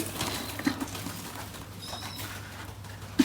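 Pigeons coo softly in a loft at feeding time, low murmuring calls repeating through a steady background hum, with a few faint bird calls and light rustling.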